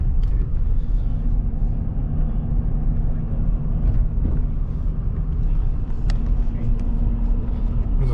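Car interior rumble while driving slowly through a residential neighborhood, a steady loud low drone of engine and road noise with faint knocks, and voices talking over it.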